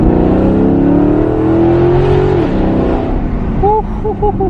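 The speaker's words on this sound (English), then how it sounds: "Let's go do a little test drive and see if it made a difference," A straight-piped Maserati GranTurismo MC engine revs loudly on a test drive, its rising drone sweeping up for about two seconds before dropping off, followed by short warbling blips near the end.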